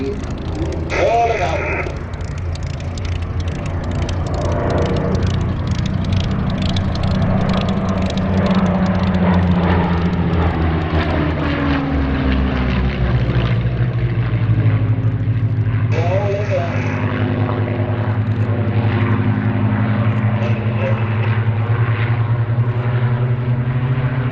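Supermarine Spitfire MH434 leads a formation of Spitfires past the crowd at an airshow, the loud piston-engine drone swelling and sliding in pitch as the aircraft pass. A commentator talks over the sustained roar.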